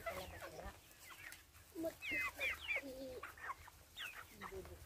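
Chickens in their coop clucking and calling close by, a scatter of short squawks and chirpy notes with brief pauses between bursts.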